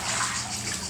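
Water flowing inside Prometheus Cave, a steady close rushing wash that fills the whole short moment with no voices over it.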